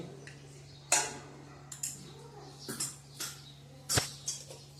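A kitchen gas stove is switched on for frying in ghee, giving several sharp, close ignition clicks spaced irregularly over a quiet background hum.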